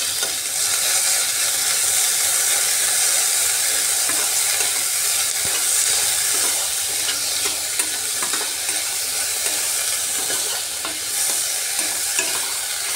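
Onions and green chillies fry with a little salt in a pan, a loud, constant close sizzle with faint stirring scrapes running evenly for the whole stretch, no voices.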